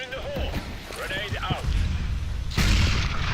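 A grenade blast in a CS:GO pro match booms near the end, a sudden loud burst after scattered gunshots, under an excited commentator talking throughout.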